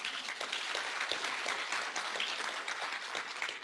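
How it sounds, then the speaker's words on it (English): A crowd at an International Women's Day celebration at the Kenya School of Government in Nairobi claps steadily for several seconds, dense and sustained applause filling the hall with no pauses. "Can we give her a clap?"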